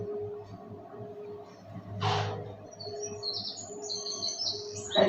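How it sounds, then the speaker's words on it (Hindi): Small birds chirp and tweet in short bursts over a steady low background hum, with a brief louder rustle partway through. "माँ, इन चिड़ियों की चहचहाहट सुन रही हो?"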